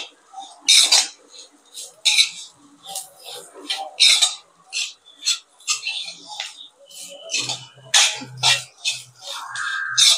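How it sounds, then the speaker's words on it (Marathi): Vermicelli being stirred and roasted in a pan, heard as a string of sharp metallic clinks and scrapes of a utensil against the pan at an uneven pace, with quiet stretches between. "शेवई टाकल्यावर पण आपण त्याला छान परतून घेणार आहोत."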